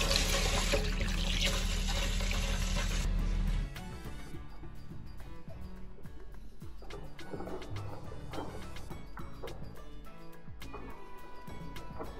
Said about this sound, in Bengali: চাল ডাল ধুয়ে নিতেছি।